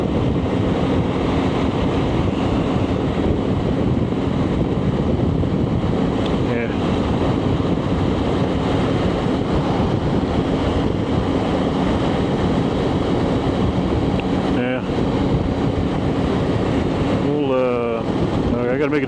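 Strong, steady wind roars over a rider's microphone on a BMW K1600 GTL motorcycle in New Mexico, a constant loud rush that never lets up, with the engine and road noise buried beneath it.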